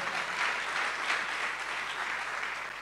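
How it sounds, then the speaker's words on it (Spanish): An audience at an event closing applauds a barbecue, a soft, fairly distant wash of many hands clapping in a steady patter that eases slightly toward the end. "Un aplauso para el asado"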